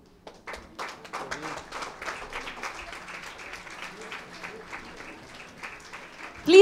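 Scattered hand clapping from an audience at a students and teachers performance event, thin and uneven at first, building into steadier applause, with a sharp loud burst at the very end.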